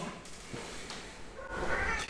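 A cat meowing nearby, a short drawn-out vocal cry rising near the end over faint room background, with no talk.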